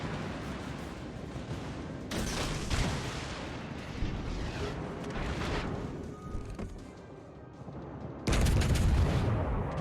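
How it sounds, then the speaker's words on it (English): Naval guns boom through a World of Warships Legends battle, dense broadband blasts layered over a steady rumble of gunfire and explosions, with a heavy salvo at the start and another loud cluster near the end. "More shots out of the Tulsa."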